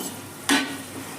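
A short burst of sizzling as corn kernels hit hot oil in a pan for a second frying, a loud hiss that rises sharply and then fades into a low simmer.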